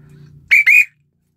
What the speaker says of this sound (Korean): 저 호루라기를 하나 성능 좋은 걸 달고 댕기시오